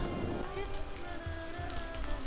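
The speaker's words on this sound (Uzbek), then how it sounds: "O'rtoqlar, yomg'ir shunaqa yog'yapti" Rain falling at a mountain resort area, a dense steady patter close by, continuous throughout with some low rumbling underneath.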